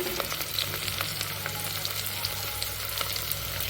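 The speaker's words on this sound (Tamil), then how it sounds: "வெங்காயத்தை சேர்த்துட்டு நல்லா சவந்து வர அளவுக்கு வதக்கி விட்டுக்கணும்" Chopped onions sizzling and frying in hot oil in a pan for meal maker (soy chunk) biryani, a steady close crackle with occasional stirring scrapes, no voices.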